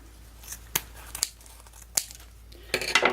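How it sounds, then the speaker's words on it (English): Scissors snip through the ribbon loops of a large loopy gift bow, giving a few sharp, close cuts spaced apart and then a quicker burst of crisp snipping with light ribbon rustle at the end. "So what I'm going to do is estimate the center and cut the loops"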